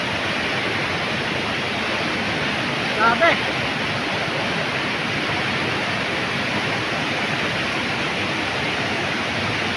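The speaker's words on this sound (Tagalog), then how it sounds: "Galit na galit yung tubig." Loud, steady roar of raging floodwater rushing, filling the whole clip, broadband and unbroken, with a brief spoken exclamation in Filipino partway through.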